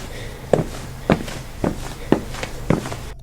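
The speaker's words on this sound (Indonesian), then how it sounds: "suara langkah yang berat dan nafas yang berat" Five slow, heavy footsteps thud at an even pace, each a dull close impact separated by roughly half a second of quiet.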